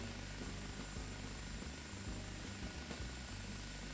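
An OH-58 Kiowa helicopter engine and rotor run steadily in a flight simulator game, a faint, even, continuous drone with a faint rhythmic beat throughout and no talking.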